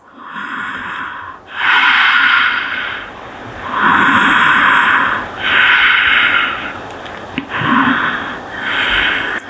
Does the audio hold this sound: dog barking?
no